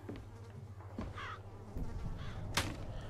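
A bird caws in the video game Bioshock Infinite, short harsh calls standing out from a low buzzing hum, with one sharp louder call near the end and no speech.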